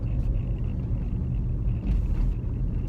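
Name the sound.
VW Golf Mk3 VR6 engine running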